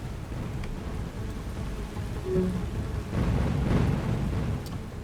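Rain falls in the naval game War on the Sea, a steady soft wash of drops on the surface that swells a little louder midway, with a distant rumble underneath and no voices.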